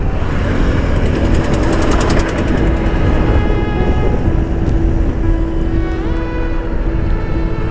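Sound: motorbike engine while riding

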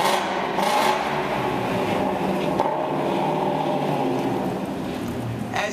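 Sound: Ford performance car naturally aspirated 500 horsepower engine

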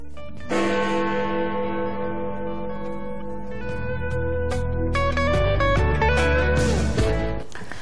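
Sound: Big Ben clock tower bells chiming, London

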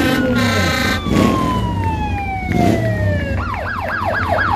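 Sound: fire engine siren in a Christmas parade

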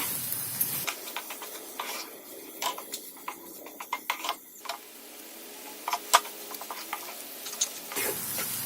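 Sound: masala with salt being roasted in oil, sizzling

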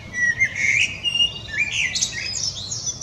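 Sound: common blackbird singing

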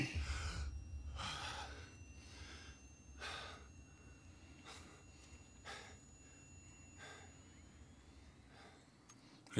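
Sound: character gasping for breath in video game Just Cause 4

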